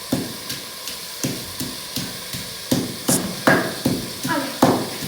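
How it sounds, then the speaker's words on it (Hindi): Garlic and green chili pounded in a mortar, a run of about a dozen sharp, regular thuds that grow slightly louder and quicker toward the end. "ये डाल के इसको अच्छे तरीके से हम लोगों ने कुंडी के अंदर कूट लेना है"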